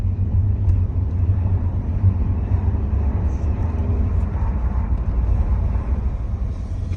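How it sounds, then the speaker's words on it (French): A Ford Focus 1.0 125 hp hybrid ST Line accelerates gently on a road, heard from inside as a steady, low, muted rumble of engine and road noise, fairly even in level with no talk. "on accélère un peu, on écoute"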